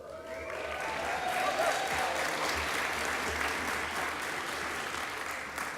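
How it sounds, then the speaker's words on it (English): A convocation audience of college students and guests applauds steadily, a dense, sustained wash of clapping filling the hall for the whole stretch without pause. "You get to clap for yourselves as well."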